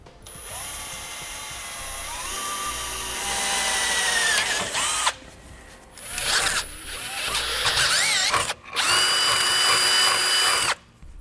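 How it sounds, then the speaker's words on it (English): A power drill bores a small pilot hole for a rear anti-sway bar on a 2014 Mercedes-Benz, its high whining motor rising and falling through several close, loud bursts separated by short pauses. "We're going to start with a small pilot hole, and we're going to enlarge these to"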